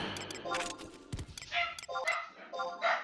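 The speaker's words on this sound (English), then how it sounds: "Oh, my dogs are barking" Dogs bark and yip in short bursts in a home, somewhat distant, mixed with a jangle that could be keys and a muffled voice.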